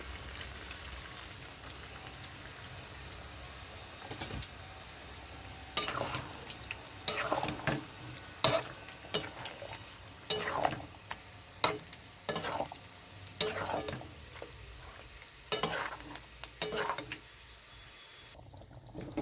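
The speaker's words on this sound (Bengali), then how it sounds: "এখানে আমি একটু জল দিয়ে দিচ্ছি।" Water is poured and stirred into a simmering chicken malai curry in a pan, soft scraping stir strokes and wet splashes coming in irregular bursts over a quiet sizzle.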